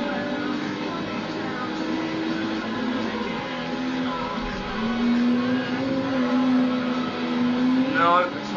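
A Gran Turismo 3 car's engine drones steadily at high revs, pitch rising and shifting through gears, with a short rapid climb near the end; someone talks over it.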